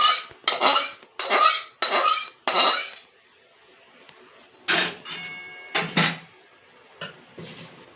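Pulao being stirred in a pot as fried ingredients are mixed in, giving a series of loud metal clatters and scrapes from a spoon against the pot in bursts, then a pause and a few more scrapes.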